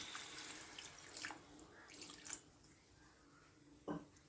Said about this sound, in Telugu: దీంట్లో కాసిన వాటర్ యాడ్ చేసుకుందాం